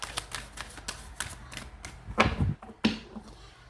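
Tarot cards are shuffled in a reading: a quick run of light crisp clicks and flutters, a few louder riffles near the end, fairly close and with no talking.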